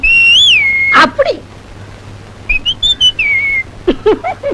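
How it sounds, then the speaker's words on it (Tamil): A person whistles clear, close, loud tones, first a long sustained note, then a pause with a few clicks and a shorter run of rising and falling notes, ending in quick chirpy bursts. "நீங்க விசில் அடிக்கலாம்."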